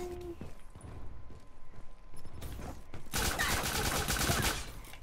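Pistol gunfire from the Call of Duty Black Ops III video game, a loud dense burst of shots in the last two seconds after quieter clicks and scattered sounds.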